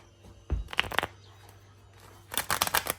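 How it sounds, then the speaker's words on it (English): A deck of Bicycle playing cards is shuffled in two quick bursts of riffling and flicking, close and fairly quiet, with a pause of near silence between them. "we're just gonna shuffle a little bit"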